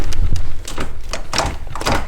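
Gears shifting with a Cube short shifter in a car, a series of sharp mechanical clunks and thunks spaced about half a second apart, close and loud.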